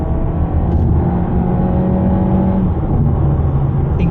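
Skoda Superb Combi 2025 four-cylinder engine at full throttle, a loud, steady, deep engine drone heard close from inside the car, rising slightly in pitch as it accelerates.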